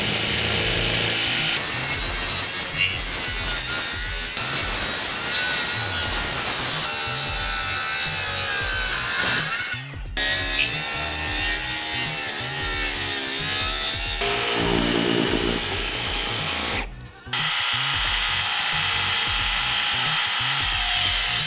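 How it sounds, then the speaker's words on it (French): Aluminium window joinery being cut along a traced line with a power saw, a loud, continuous harsh grinding whine that runs for about twenty seconds with two brief pauses near the middle and end. "On vient découper ce qu'on a tracé."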